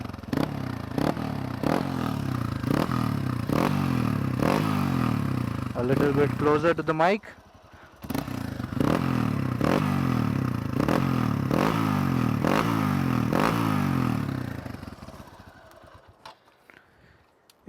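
A modified Hero Xpulse 200 motorcycle exhaust revs repeatedly, with sharp regular throttle blips rising and falling close by. A voice speaks briefly, and the engine settles toward idle at the end.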